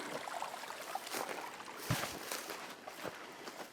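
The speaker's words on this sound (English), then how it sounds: "See quite a bit of water flowing out." Water trickling out of an old mine dump pile at the Baisley-Elkhorn Mine, a faint steady outdoor flow with a couple of soft thuds like footsteps.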